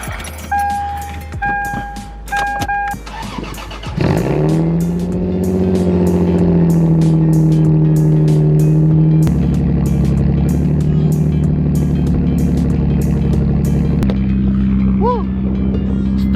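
A Lexus IS300 engine cranks briefly with keys jangling, then catches and settles into a loud, steady idle with a rising rev, close by and continuous.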